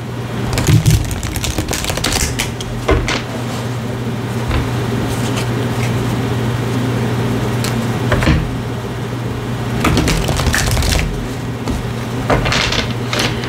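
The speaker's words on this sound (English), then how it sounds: "I'm going to shuffle three times." Tarot cards shuffled by hand, giving a steady run of papery riffles and soft taps, with sharper clicks now and then over a low background hum.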